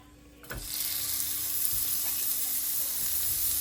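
A burger patty lands in a hot, greased pan and starts to sizzle, setting off a loud, steady frying hiss that runs unbroken to the end.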